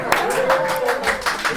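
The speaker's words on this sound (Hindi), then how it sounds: "बिल्कुल प्रोफेशनल तरीके से ताली बजाई है।" Quick, rhythmic clapping from a classroom audience, several crisp hand claps close together under a lively voice speaking over them.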